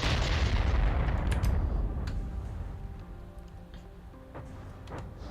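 Gunfire in a naval video game aimed at incoming missiles, heard as a dense, rumbling wash of rapid distant shots and booms that slowly fades, with no talk.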